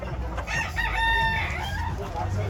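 A rooster crows once, loud and close, at a chicken expo in Tabunok, Talisay, Cebu, the drawn-out call rising over a murmuring crowd and other fowl.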